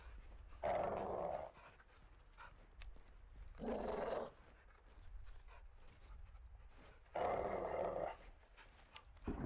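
A caged dog in Call of Duty: Modern Warfare II growls in three low, rumbling bursts spaced a few seconds apart, fairly close, over quiet background ambience.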